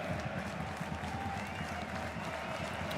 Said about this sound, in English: As Johannes Reichert leads the applause for the home fans